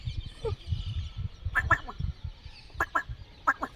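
Several short bursts of quacking from ducklings, spaced a second or so apart, over a steady low rumbling background.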